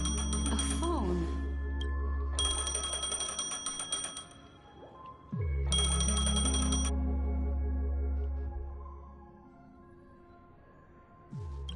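A phone rings in Honkai: Star Rail, sounding in repeated loud bursts of bright trilling tones over steady background music.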